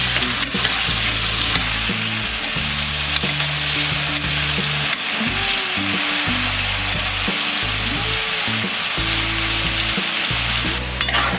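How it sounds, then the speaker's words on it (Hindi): Potato pieces fry in oil in a kadhai over a medium flame, giving a steady loud sizzle broken by repeated scraping and stirring strokes of a spoon against the metal. "कढ़ाई में इसे डालेंगे। इसे मीडियम फ्लेम में फ्राई करेंगे।"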